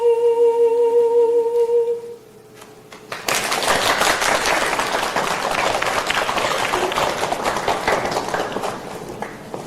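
Theatre audience after an opera performance of Phantom of the Opera breaking into dense, sustained applause that starts abruptly after a sung note fades and continues steadily, with many hands clapping at once.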